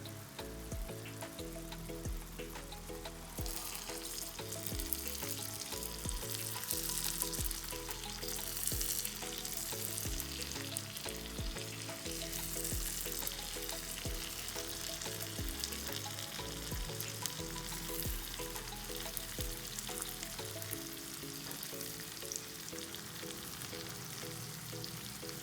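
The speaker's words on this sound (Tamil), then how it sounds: "இப்படியே சிம்மில் வச்சு இந்த முட்டை வந்து வேகட்டும்." Egg curry simmers in a pan on low heat with a continuous soft sizzle and light bubbling crackle, heard under steady background music throughout and with no talking.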